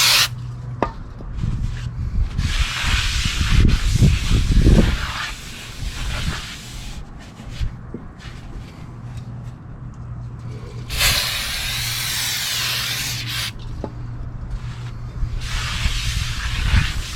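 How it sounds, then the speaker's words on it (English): Brake cleaner aerosol sprayed onto the front brake rotor of a 2016 Toyota Sienna XLE, a steady broadband hiss in two long bursts, the stronger one late, over a low background hum in a garage. "Shooting them down with some brake clean in case there's any grease"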